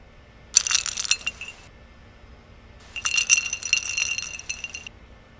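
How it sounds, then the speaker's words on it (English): Ice and a spoon clinking and rattling in a glass as a Cranberry Seabreeze cocktail is stirred, in two bursts of a second or two each, close and fairly loud with a quiet pause between. "Step number 9 is stir your concoction well."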